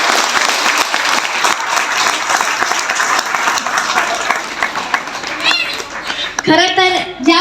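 Sustained audience applause fills a Dhamma camp gathering at Bodhivan Buddha Vihar in Wadegaon, a thick wash of clapping that thins toward the end as a few voices and a child's sounds break through.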